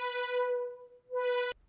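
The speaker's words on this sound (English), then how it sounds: "now you can just cut away the high frequencies" A synth oscillator holds a steady harmonic-rich tone while a low-pass filter sweeps its upper partials away and then opens back up. It plays alone for about a second and a half and then cuts off.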